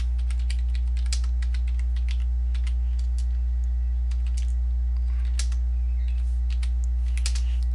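Quick, uneven clicks of keys on a computer keyboard as a game name is typed, close and fairly faint over a constant low electrical hum, with no voices.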